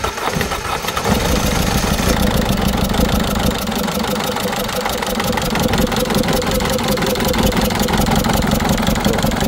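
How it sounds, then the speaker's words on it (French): A Peugeot 207 1.6 HDi diesel idles close by, a loud rough rattling clatter that carries a ticking from a leaking injector seal. It starts off uneven and then settles into a steady idle. "il y a un bruit de joint d'injecteur"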